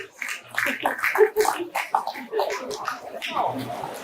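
An audience at a COP 30 side event in Belém, Brazil, breaks into brief, scattered applause, irregular claps near and loud at times, with voices talking over it.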